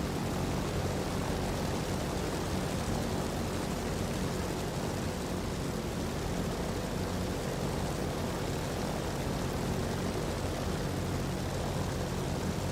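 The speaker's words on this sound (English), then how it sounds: "we're going to have 4 warbirds taking off" A P-47 and other WWII warbirds taking off in the DCS flight simulator, with a steady, wide propeller-engine roar that holds fairly even and moderately loud throughout, no one speaking.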